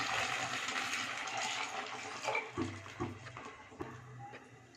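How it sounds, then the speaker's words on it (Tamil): Water is poured into a thin ground dal mixture in a pot and stirred for a Tamil lentil kuzhambu, giving a steady close splashing with soft clinks and knocks toward the end. "இன்னும் கொஞ்சம் தண்ணி ஊற்றி கலந்துக்கலாம்."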